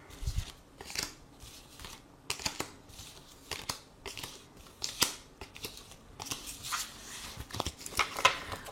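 Tarot cards being drawn and handled for a reading, making a run of quiet, close papery snaps, slides and rustles in an irregular rhythm, with no voices.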